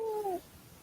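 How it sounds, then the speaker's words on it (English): A pet cat lets out one drawn-out, wailing meow that sounds like a crying baby, loud and close, then breaks off into quiet room noise. "Your cat kind of sounds like a baby crying."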